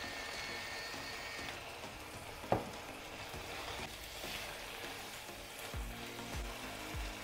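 A cassava dish's seasoned filling, salted and peppered, cooks in a pan with a faint, steady sizzle, broken by a brief utensil clink and a few soft stirring scrapes near the end.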